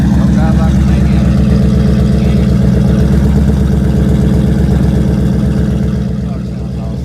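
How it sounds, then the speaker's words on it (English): A Ford Coyote V8 with a 76mm single turbo, full spool and drag setup idles loudly up close, a rapid lumpy pulsing rumble that holds steady and then eases slightly at the end. "Car sounds awesome."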